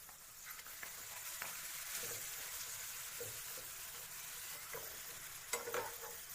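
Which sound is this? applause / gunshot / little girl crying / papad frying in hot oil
papad frying in hot oil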